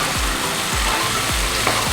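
Spice paste fries in oil for a dish of dried mola fish with aubergine and potato, a dense continuous sizzle heard close and loud, with a spatula scraping the pan in regular strokes about every half second.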